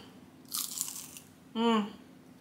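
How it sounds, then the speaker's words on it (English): Close crunchy bites into budget homemade tacos with beans and cheese: a sharp crackling bite, a pause, then a short second crunch with a brief vocal murmur of enjoyment. "the little crunch"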